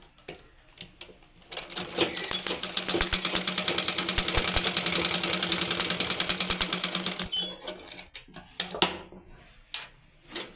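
A sewing machine stitching a blouse: a fast, even rattle of needle strokes that runs for about six seconds, close and moderately loud, with a few scattered clicks and handling taps before and after.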